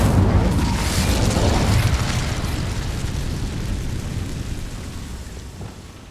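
An Incendio fire spell is cast in Hogwarts Legacy on Xbox Series X, a loud roaring fiery burst that booms at the start and then slowly dies away into a long, fading rush.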